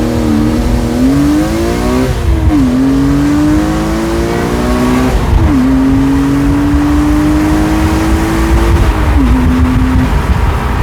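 A BMW E46 M3 in M-Track mode revs up loudly and continuously, engine pitch climbing in several steady sweeps with brief drops between gear changes, close and prominent under road and wind rumble.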